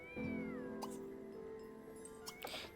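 A cat meows in The Sims 3, a clear drawn-out meow with a falling pitch, followed by faint small clicks and game sounds, quiet and alone.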